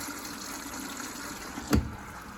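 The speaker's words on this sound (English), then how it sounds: "taking on water for a second rinse" Water runs into a Candy Grand O Vita washing machine drum for a second rinse with a steady hiss and gush, broken by one brief thump near the end.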